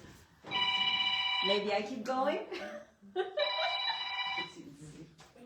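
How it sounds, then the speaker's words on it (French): A mobile phone rings with a repeating electronic ringtone in two bursts, loud and close, while people talk and laugh over it in a shop setting. "ça, c'est mon téléphone."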